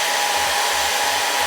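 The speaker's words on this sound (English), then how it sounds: "use a blow dryer to push it down" A blow dryer runs continuously and loudly up close, a steady rushing airflow drying a wet chocolate brown wig, with no voices over it.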